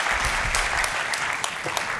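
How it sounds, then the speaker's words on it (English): Keynote audience clapping at an afternoon talk, a loud, dense patter of many hands with a few sharper claps standing out, steady throughout. "Yes, you can clap."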